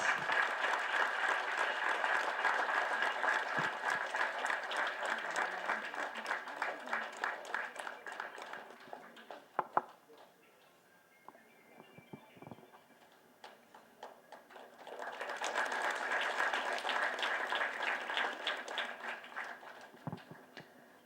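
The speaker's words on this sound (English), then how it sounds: "I think our hall is full, but the sound of the clap is very mild" Audience clapping in a full hall at a nurses' award ceremony, a dense burst that thins to scattered claps, dips nearly quiet, then swells into a second strong round.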